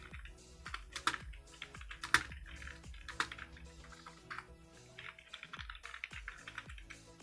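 Irregular bursts of computer keyboard typing while entering text in Excel 2019, with crisp, close key clicks arriving in quick clusters separated by short pauses, fairly quiet overall.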